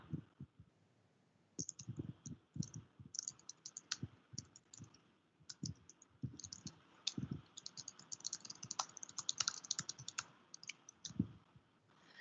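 Typing on a computer keyboard: soft, irregular clicks and key taps in uneven bursts with short pauses, close but fairly quiet.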